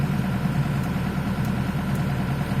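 The engine of an XCMG XE60DA Plus excavator runs at a steady idle, giving a close, continuous low rumble throughout.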